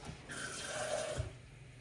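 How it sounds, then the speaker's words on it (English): Water poured into a cooking pan of partly frozen meat, a steady close splashing and gurgling stream with a soft clunk near the end. "I'll add a little water to the meat so we could cook just a little bit."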